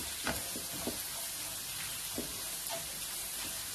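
Paneer bhurji masala mixture with salt, red chilli, coriander powder and garam masala frying in a pan, a steady close sizzle with a few soft spatula knocks and stirs.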